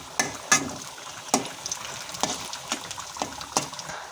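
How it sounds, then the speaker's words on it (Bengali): Onions fry down to a crisp brown with two dried red chillies in a pan, with soft sizzling broken by sharp, irregular clinks and scrapes of stirring. No one speaks. "পেঁয়াজটা বেরেস্তা করব। ভাজার এই পর্যায়ে এসে আমি 2টো শুকনো ঝালে যে চিড়ে দিয়েছি।"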